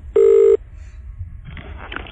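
A steady, loud telephone tone beeps once while a call is placed on a radio phone-in show, followed by quieter line noise and faint hissy sounds.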